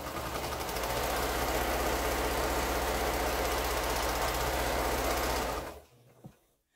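A sewing machine stitches a quilt seam in a fast, steady mechanical whir that runs loud and continuous for several seconds, then winds down and stops, followed by a small click.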